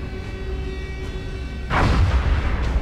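A plasma cannon fires at a large scout UFO in XCOM: Enemy Unknown, a sudden loud burst of energy that swells into a rumbling roar over steady game background hum.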